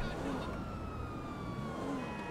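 A police siren wails in the GTA Online video game during a chase, a steady undulating tone over a dense bed of game engine and traffic noise.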